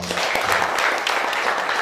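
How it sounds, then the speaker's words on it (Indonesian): Audience at a young entrepreneurs' business talk gives brief, dense applause, an even burst of many hands clapping without voices over it. "Boleh tepuk tangan dulu dong."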